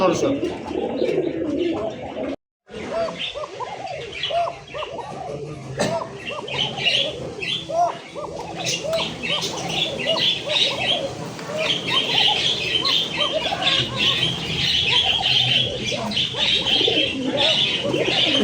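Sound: pigeons cooing at a pigeon farm

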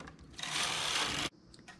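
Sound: knitting machine carriage knitting rows

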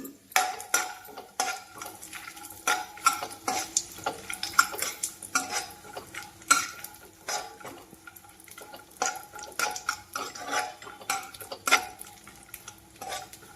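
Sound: frying coconut pieces and almonds in a pan

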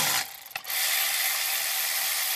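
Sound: ratchet tightening a clamp on Ford EGR cooler hose

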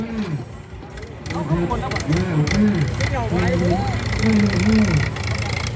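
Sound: Ford 6640 tractor engine idling

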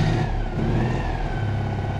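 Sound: Citroen 2CV engine revving on off-road course

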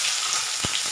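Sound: onion frying in oil

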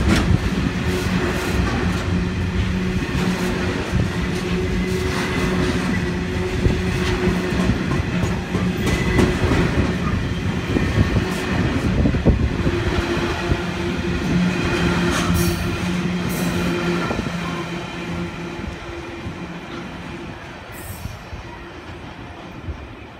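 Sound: coal train passing through station platform

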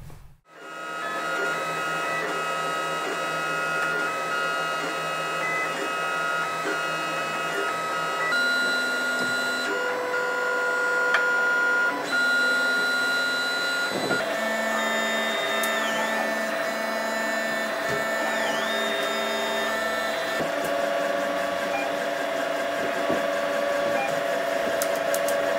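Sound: 3D printer printing parts for xenomorph cosplay

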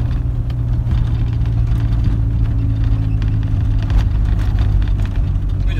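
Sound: car driving slowly past

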